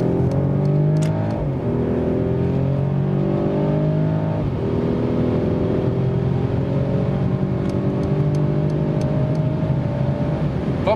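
A 2021 Mercedes E450 Cabriolet's six-cylinder engine revs hard and climbs through the gears toward 180 km/h, a loud, steady, rising drone with shifts, and no voices over it.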